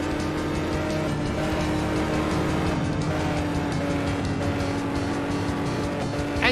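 Continuous race car engine drone in an arcade racing video game with turbo boost engaged, loud and steady throughout, with occasional tire squeal and no talk.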